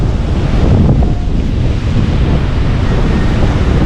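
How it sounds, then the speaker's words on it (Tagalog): Strong ocean waves crash continuously on the Bucana shore in rainy weather, a loud, dense roar mixed with heavy wind buffeting the microphone, with no voices heard. "Ang lakas ng alon, baka tayo higupin."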